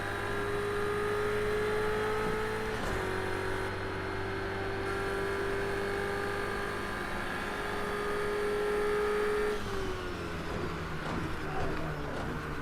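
Race car engine in a racing video game, a sustained high-pitched whine held steady through long stretches with sudden pitch shifts at gear changes, fairly loud and continuous.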